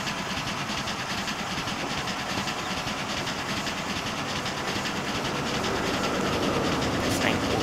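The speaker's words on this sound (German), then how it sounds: "Das ist ein OG-Zug." Electric BBÖ 214 train running on an electrified line in the Transport Fever video game, a steady rolling rumble with rail clatter, continuous and close, with no talk over it.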